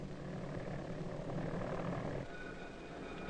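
A mail-carrying airplane drones steadily with a broad, continuous engine roar, moderately near and unbroken for the whole stretch, with no voices.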